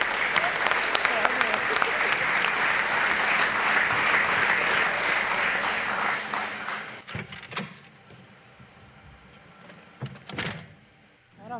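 A live audience at a comedy show claps loudly for several seconds. The applause then fades into quieter thumps and scattered sounds.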